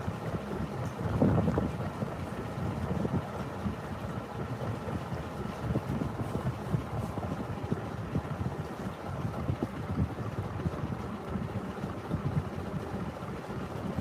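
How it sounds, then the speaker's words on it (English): Wind buffets the microphone aboard a narrowboat on a canal, a steady low roaring rumble with gusty swells that persists throughout, loud and close, with no talking. "the wind's picked up a little bit though, unfortunately, so it might be a bit noisy for you guys now"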